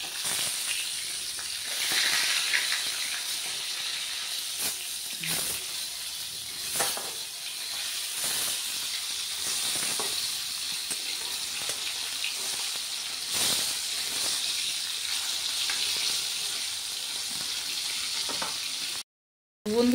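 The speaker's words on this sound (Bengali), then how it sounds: "মাছ ভাজা হচ্ছে, মাছ ভাজা দিয়েছি।" Fish frying in oil, a steady close sizzle and crackle held for a long stretch with occasional sharper pops, ending with a brief dropout and a louder burst.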